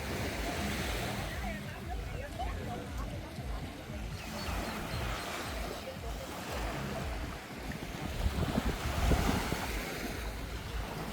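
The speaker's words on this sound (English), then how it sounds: "This is a nice beach." Ocean waves wash onto a beach on Phu Quoc Island, Vietnam, a steady rolling surf roar mixed with wind buffeting the microphone, with a faint voice in the background.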